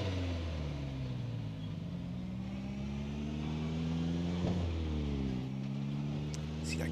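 A car engine runs steadily in the Project Zomboid video game, the engine damaged and worn to about a third of its condition, its low hum rising and shifting in pitch as it revs, close and continuous throughout.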